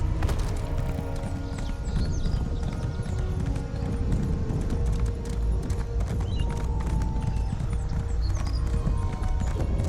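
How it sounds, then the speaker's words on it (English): Horse hooves clip-clop steadily through a 10-second stretch of the video game Solstice, riding toward a mountain pass near the Writhing Wall, with a brief whinny and faint game ambience behind the continuous footfalls. "Well, we better hop off our horses here."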